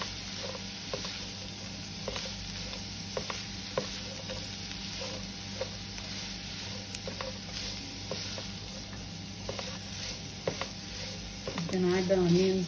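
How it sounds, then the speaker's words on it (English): Vegetables for spring rolls sauteing on high flame in a pan, a steady sizzle with repeated stirring scrapes throughout, close and fairly loud, with a brief louder burst near the end. "Saute it on high flame."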